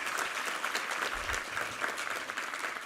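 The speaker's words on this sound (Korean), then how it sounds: "우리 하나님께 감사와 영광의 박수 올려드리겠습니다." Church congregation at a Sunday service applauds together, a steady, even wash of many hands clapping at moderate volume for a few seconds.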